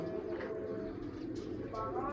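Pigeons coo softly and continuously inside a pigeon loft, a steady, close, low murmur with voices faintly mixed in.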